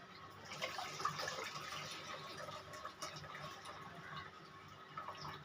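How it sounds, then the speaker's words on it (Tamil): Tamarind water being poured into a Nagercoil-style fish curry, a soft, steady trickling and splashing of liquid, faint and close, with no talk. "புளி தண்ணியை ஊற்றிக்கலாம்."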